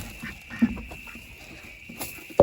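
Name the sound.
ducks quacking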